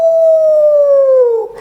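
A single long, clear wolf-like howl imitated by a voice, sliding slowly downward in pitch before trailing off, loud and close with no other sounds.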